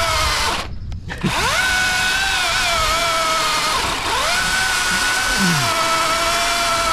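A battery chainsaw running on a drill-style battery buzzes steadily and loudly, its pitch dipping and rising as the chain bites into wood.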